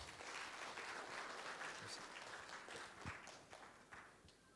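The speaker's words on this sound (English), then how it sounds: "Professor Dr. Stephen Roy, please give a big applause." An audience at a World Philosophy Day presentation applauds a professor, a dense burst of clapping that stays full and then gradually thins and fades.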